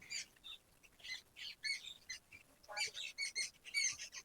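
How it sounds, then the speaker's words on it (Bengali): Several birds chirp and squawk in short, quick bursts on a morning near Jamunasul sea beach. The calls overlap and repeat irregularly and sound fairly close but soft, with no talking. "চারদিকে নানা রকম পাখির ডাক"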